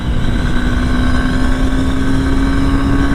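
A 2021 Honda Hornet 2.0 motorcycle runs steadily up through first to fourth gear, its engine giving a loud, continuous drone with a strong low rumble and a sustained tone that never drops away, with no voices present.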